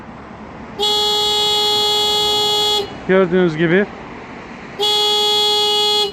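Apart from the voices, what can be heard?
Renault Fluence door-sensitive theft alarm honking the horn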